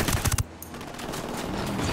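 Automatic gunfire in the video game Ghost Recon Wildlands: a quick burst of several loud close shots at the start, then a dense roar of game noise.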